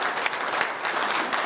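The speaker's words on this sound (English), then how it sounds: "A round of applause for Leena." Steady applause from a conference audience, dense even clapping filling the room, close and fairly loud, with no voices over it.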